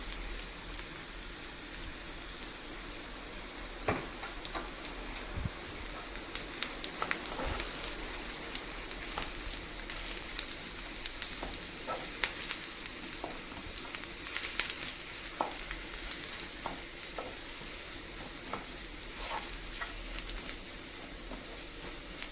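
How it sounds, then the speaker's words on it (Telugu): A spice mixture and cluster beans fry in oil, a steady moderate sizzle with scattered crisp pops and occasional stirring clicks throughout, and no voice over it. "యాడ్ చేసుకొని కాసేపు వేయించుకుందాం నూనెలో."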